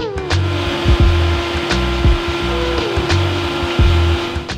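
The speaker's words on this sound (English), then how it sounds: "now that I have blended the tortilla milk" Blender whirring steadily as it blends tortilla milk with milk, pickled jalapenos and sweetened condensed milk, a loud continuous motor hum with small pitch shifts, running alone throughout.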